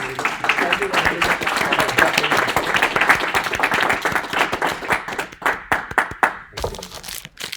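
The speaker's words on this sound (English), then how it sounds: "Give him a round of applause." Audience applause after a programming lecture, loud dense clapping for several seconds that thins into scattered claps and stops, with a voice briefly audible near the end.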